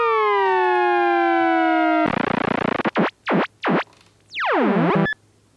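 Loud Novation MiniNova synthesizer tones that glide downward, then a buzzing burst, pulsing wobbling swells, and a sweeping pitch dive, all shaped by rapid LFO modulation.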